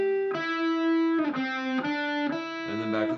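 A slightly distorted electric guitar plays a metalcore lead line, sustained melodic notes changing every half second or so, clear and upfront with no voice.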